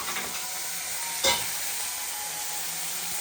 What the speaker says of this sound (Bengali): এবার এখন চিংড়ি মাছ দিয়ে পেঁয়াজ দিয়ে রসুন দিয়ে ভাজছি